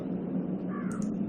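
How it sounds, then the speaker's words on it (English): A crow in the Darkness Within video game gives a short harsh caw, moderately close, over a steady low ambient drone. "Hello, bird."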